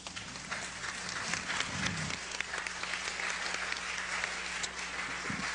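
An audience applauds after a lecture on reparations for slavery, a sustained, even wash of many hands clapping across the room, with a low steady hum beneath and no speech.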